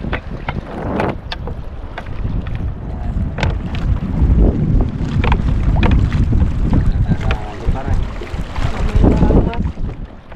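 Strong northeast monsoon wind (amihan) buffets a small fishing boat at sea. Loud, gusty microphone roar mixes with hull and water thumps, and voices are heard faintly under the noise.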